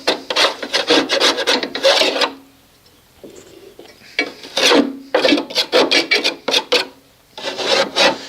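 Rough scraping of caked debris off the underside of a lawn mower deck: loud, close rasping strokes in quick bursts, a short pause, then more rapid scraping passes.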